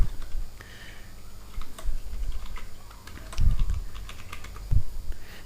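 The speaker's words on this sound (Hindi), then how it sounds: "बेसिक सैलरी हम यहाँ पर टाइप कर लेंगे।" Close computer keyboard typing in a spreadsheet comes in quick irregular bursts of key clicks with short pauses, and a few heavier thumps land on larger keys.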